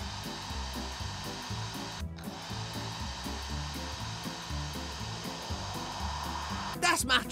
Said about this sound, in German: Um Rubbles Fell zu trocknen, bewege den Föhn über ihn.